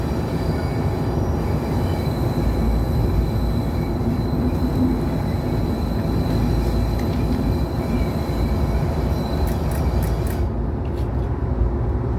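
A locomotive rolls along an empty straight track, its steady loud rumble and wheel noise continuous throughout, with faint squeals near the end.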